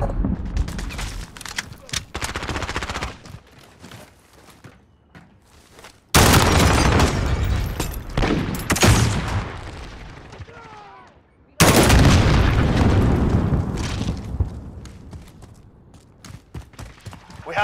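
Rapid bursts of gunfire and booming blasts in a video game firefight involving an M4A1 rifle, loud and dense in several waves, with voices calling out between them.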